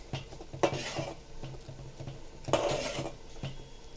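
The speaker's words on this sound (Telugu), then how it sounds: "ఒక పది నిమిషాలు మూత పెడదామండి" A lid is set onto a cooking pot of gongura chicken, giving a clear metal clank followed by a second clatter a couple of seconds later, with soft kitchen rattling between.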